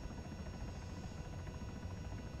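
A CH-67 Huron twin-rotor transport helicopter in Arma 3 produces a steady, loud, dense rotor and engine roar that fills the space, with a fine high whine running over it.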